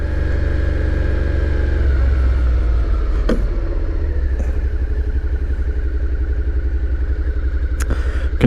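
A motorcycle engine runs steadily while riding on the road, a loud, continuous low rumble with a regular pulsing beat and a few sharp clatters, with no talk.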